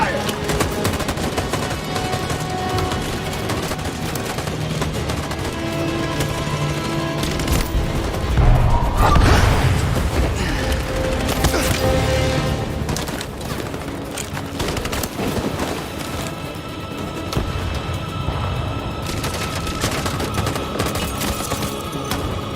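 A squad fires weapons in Detroit: Become Human in a long, sustained fusillade of rapid machine-gun bursts that swells loudest near the middle and keeps crackling steadily to the end.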